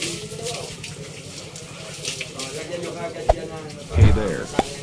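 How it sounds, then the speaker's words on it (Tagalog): Water running and splashing as it is replaced in a steambath tub, a steady faucet-like flow with a few brief splashes and knocks near the end, heard under people talking. "papalitan nila yung tubig. Pinapalitan nilang bago."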